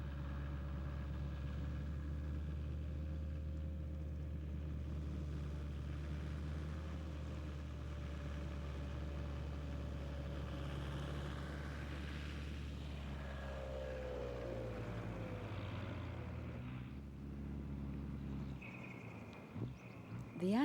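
Four-wheel-drive vehicles rumble along a sandy desert park trail, a low, steady engine drone that holds for a long stretch before shifting pitch near the end as the vehicles move, fairly faint and distant.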